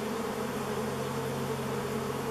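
Bees from a hive left unopened for over 30 years drone in a dense, continuous close buzz that fills the whole moment with no pauses.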